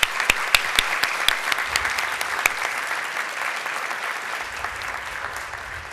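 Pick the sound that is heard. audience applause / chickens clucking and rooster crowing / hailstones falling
audience applause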